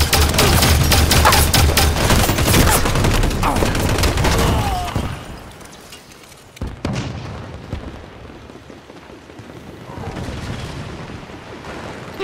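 Heavy gunfire and explosions fill a Halo 5: Guardians multiplayer battle, dense and loud at first, then thinning to sporadic distant shots and rumbles, with a voice heard briefly.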